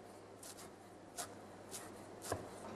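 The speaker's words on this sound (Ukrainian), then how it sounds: "а тепер мені треба дуже дрібно нарізати цибулю" A knife chops onion finely on a board in a home kitchen, the light crisp cuts coming sparse and irregular, a few soft taps spaced apart over a faint steady hum.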